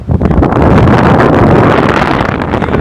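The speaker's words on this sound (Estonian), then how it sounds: "Tuul on päris vinge." Strong wind buffets the microphone outdoors in Australia, a loud, continuous broadband roar that swells and dips slightly without pause.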